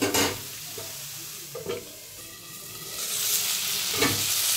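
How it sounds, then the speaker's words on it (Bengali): Eggplant fries in oil in a pan with a continuous crackling sizzle, punctuated by a few sharp spatula scrapes and stirs, growing brighter and louder toward the end. "এইভাবেই সব বেগুনগুলো ভেজে নেব।"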